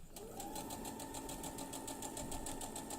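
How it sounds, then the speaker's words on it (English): A sewing machine runs steadily at close range while piecing patchwork, its needle tapping in a fast, even rhythm over a motor hum. "it's back over to the sewing machine for this one"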